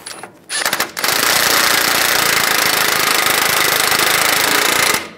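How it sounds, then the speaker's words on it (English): An impact wrench hammers tight the axle nut on a Volkswagen Beetle CV axle, a loud, rapid, continuous rattling burst lasting about four seconds after a short start. "Now we're going to tighten the axle nut."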